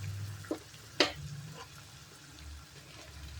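Fresh coriander leaves hit hot tempering oil while whole masoor is being cooked, giving a soft continuous sizzle with two sharp crackling pops near the start, close and moderately quiet, no voices.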